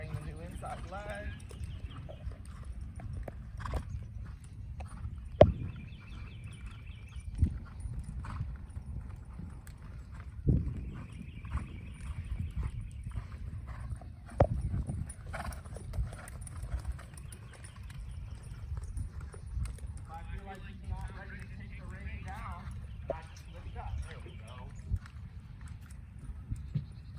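Horse hooves clip-clopping at a walk during a riding training session, steady soft thuds running throughout beneath a trainer's talking, with some chickens clucking faintly in the background.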